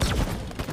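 Rapid game gunfire burst in a first-person shooter, a quick volley of shots layered together, loud and close, with no talk over it.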